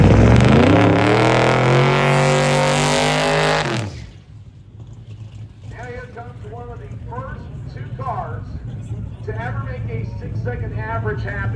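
A nitrous drag racing car launches off the line at a strip, a very loud, close, harmonic roar that ends abruptly after four seconds, followed by an announcer talking over quieter engine noise in the distance.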